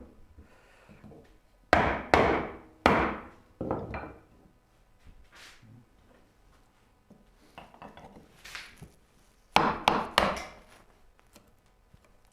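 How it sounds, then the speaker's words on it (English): Chisels driven by a hammer chop into wood while building a Moxon vise, giving a few sharp, close knocks with splintering cracks in spaced clusters and quieter scraping between them. "now to have fun with chisels"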